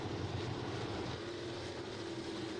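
Crate sprint car engines roar around the banked oval at Humberstone Speedway during a night race, a steady, dense mechanical drone heard from a distance with no break.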